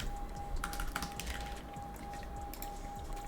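Quiet computer keyboard typing, a rapid irregular patter of soft key clicks over a steady background hum, with no voice.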